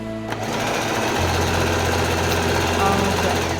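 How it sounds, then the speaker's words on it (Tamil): A Singer Heavy Duty 4423 sewing machine stitches fabric along the edge in a steady, loud, close rattling whir that runs throughout, with a low motor hum beneath. "இப்போ நான் ஸ்டிச் பண்ணும்போது பார்த்தீங்கன்னா ஓரமாக வச்சு தைக்கிறேன்"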